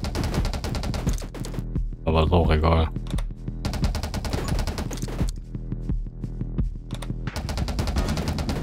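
Rapid automatic gunfire from the video game 20 Minutes Till Dawn rattles in continuous bursts, with someone talking over it.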